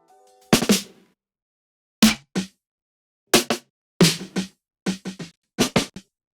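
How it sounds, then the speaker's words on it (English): Sharp snare drum hits in a loose, syncopated pattern, often in quick pairs, each crisp and dry with a short rattling tail, played alone. "The snares sound like this"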